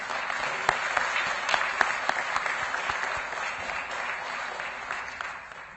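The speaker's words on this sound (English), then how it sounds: "So let's give him a round of applause for that as well." Audience at a school district governing board meeting applauding a student headed to the Air Force Academy, a sustained moderate round of clapping with a few sharper individual claps standing out.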